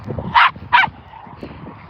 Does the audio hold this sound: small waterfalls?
no